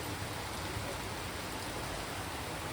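Steady rain falls during Deepavali in Chikmagalur district, a dense, even hiss of drops that continues unbroken throughout with no voices.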